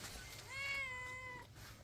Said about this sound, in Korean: 야옹 야옹 야옹 야옹 야옹